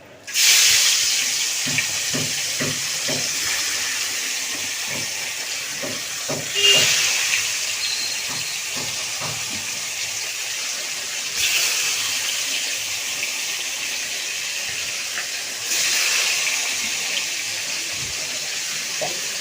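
Bhola fish sizzling and crackling in hot oil, a steady bright hiss that swells a few times, with light spatters throughout.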